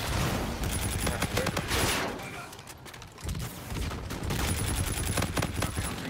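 Rapid bursts of gunfire from the Call of Duty: Infinite Warfare video game, dense volleys of automatic shots loud throughout with a brief lull in the middle, while a player talks over them.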